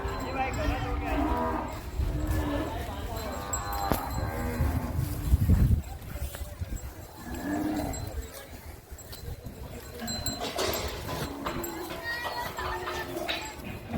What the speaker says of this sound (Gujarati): એ બધી ગાયો આવવા માંડી છે